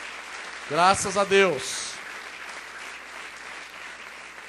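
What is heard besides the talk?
congregation applauding in church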